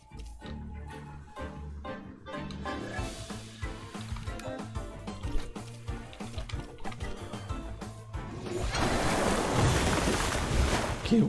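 A water cannon attack in the Temtem monster-battling game: a loud, rushing broadband wash of spraying water that swells in the last few seconds, layered over a steady game music bed.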